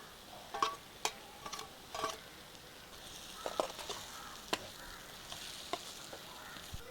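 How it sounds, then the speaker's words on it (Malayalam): Mussels sizzle faintly in a pan for an Indian mussel roast while a utensil stirs them, giving scattered light scrapes and clicks at an irregular pace. "ഇതിലേക്ക് ചിപ്പി ചേർത്ത് ഇളക്കാം."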